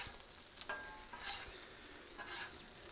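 Bacon frying on a Blackstone griddle, a faint, steady sizzle with soft crackles and a couple of scraping stirs, close but quiet.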